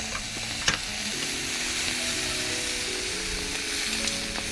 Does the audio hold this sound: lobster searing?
yes